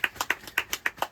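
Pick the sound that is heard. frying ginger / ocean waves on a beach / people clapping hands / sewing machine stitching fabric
people clapping hands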